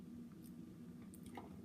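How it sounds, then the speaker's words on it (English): Akutak made with berries and Crisco is chewed close up, the berry seeds giving faint, soft, moist crunches and squishes over a quiet background. "The crunching you're hearing is the seeds."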